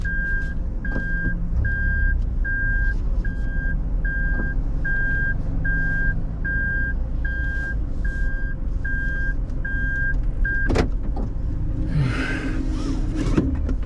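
Isuzu trucks in a factory yard give off a steady series of reversing beeps over a low engine rumble, followed near the end by a sharp clank and a burst of hissing air.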